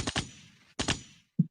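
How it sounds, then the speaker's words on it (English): A gunshot sound effect: two quick rounds of sharp, close bangs with short echoing tails, followed by a dull thump. "Let me give him a gunshot."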